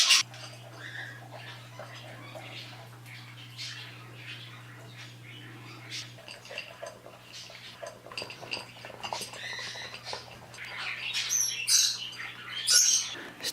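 Pet birds chirp and tweet in a living room in the early morning, with scattered calls throughout and louder squawks near the end, over a steady low hum.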